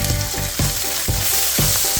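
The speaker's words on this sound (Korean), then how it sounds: "웍에 식용유 두르고 다짐육을 먼저 볶아줄 거예요." Ground meat fries in cooking oil in a wok, making a steady loud sizzle with regular surges as it is stirred, and no voices.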